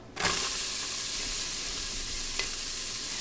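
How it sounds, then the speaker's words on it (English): Diced yellow onion goes into a hot Instant Pot and starts sautéing, a sudden hiss that settles into a steady close sizzle, with a single light stir or clink near the end. "Now, I like to saute up my onions a little bit."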